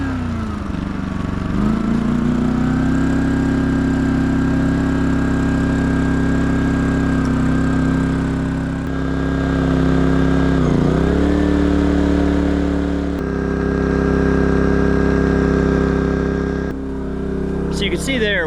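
A Wen 3600 dual fuel generator running on propane is pulled over with the choke set, then runs with a steady mid-pitched engine drone, close and continuous, its tone dipping and recovering as load shifts, with a person talking over it.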